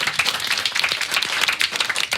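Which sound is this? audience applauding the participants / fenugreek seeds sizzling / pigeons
audience applauding the participants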